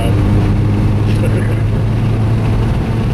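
A Honda car engine with a jerry-rigged intake runs at full throttle, producing a steady, loud, droning hum that holds constant throughout at close range.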